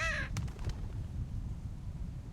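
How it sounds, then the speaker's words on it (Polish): A single crow caws sharply in The Walking Dead Season Two, a brief harsh cry near the start followed by a few short clicks over a low rumbling ambient bed. "Jest kruk. Witam, panie kruku."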